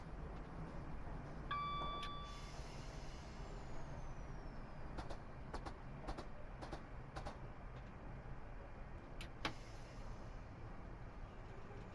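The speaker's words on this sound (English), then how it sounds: "So now we're going to do a heavy brake application to get down to 50." A heavy brake application on a Midland Main Line train between London and Bedford: a steady hiss of braking air and running noise, with a brief whistle-like tone early on and several sharp clicks or knocks later, heard alone at a moderate distance.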